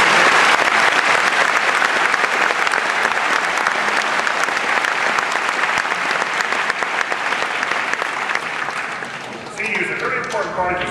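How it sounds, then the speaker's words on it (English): A large crowd at a high school graduation claps in sustained, dense applause that slowly tapers off near the end as talking resumes. "Let's have a round of applause for our"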